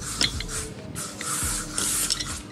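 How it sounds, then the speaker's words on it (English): Off insect repellent sprayed from an aerosol can, heard as a steady hiss with a few bursts over about two seconds, close up, during work on BMW M3 and M4 cars, with no talking. "I've gotta spray myself with off."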